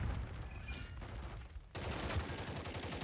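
Rapid full-auto pistol fire in a first-person shooter video game, dense sustained bursts of shots filling the clip with a brief break midway.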